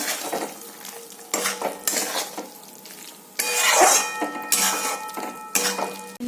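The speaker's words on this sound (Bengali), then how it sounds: "এবার এটাকে ভালো করে মিশাতে হবে" Chicken being stirred into oil-fried spices in a pan, with a spoon scraping and clinking against the metal in repeated bursts over a soft sizzle; no talking.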